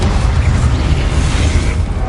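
A fire spell cast in Hogwarts Legacy, a loud roaring, booming burst of flame that surges steadily for about two seconds with a low rumbling body and no voices.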